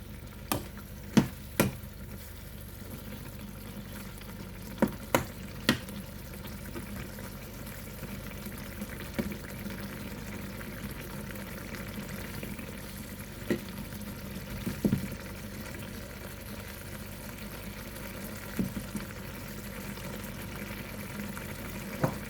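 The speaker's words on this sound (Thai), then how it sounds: "ผัด เนื้อปลาให้เข้ากับพริกแกงก่อนนะคะ" Chunks of fish stir-fried with red curry paste in a pan give a soft, continuous low sizzle, broken by occasional sharp clinks and scrapes of the utensil against the pan.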